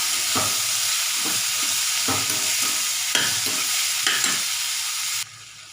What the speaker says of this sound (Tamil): இப்போ வந்து இந்த நூக்கில் சேர்த்துடலாம் கொஞ்சம் நேரம் வதக்கி வேக வச்சிடலாம்